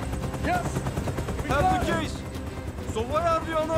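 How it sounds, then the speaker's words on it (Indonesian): Gunfire in a scene from the action film Operation Fortune, with several sharp shots punching through a dense mix of music and voices. "JJ berhasil menembak anak buah Mike hanya dengan beberapa peluru"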